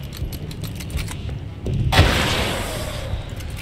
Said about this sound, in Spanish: O sea que si les disparo rápido...